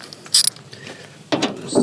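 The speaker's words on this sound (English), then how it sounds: "Looks like I'll have to undo this bolt here and potentially a couple more." Ratchet wrench clicking while undoing a roughly 10 mm bolt near the fender of a truck camper, a quick burst of mechanical ratcheting followed by a second louder clatter, close by with no talking.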